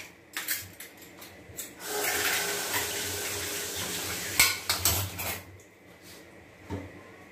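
Water runs and gurgles in a kitchen sink amid a pile of dirty dishes, with close clatters of dishes and utensils scattered over the flow.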